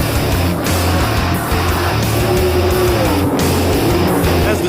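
Souped-up Grand Am Sports Car Series race cars speed around the 2.5-mile Watkins Glen International Raceway course, their engines roaring loud and continuous with a steady low drone and brief surges as cars pass close by.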